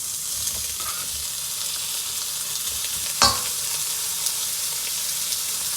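Pork pieces dropped into a hot pan, a steady close sizzle and crackle of frying with one brief clatter partway through, no talk.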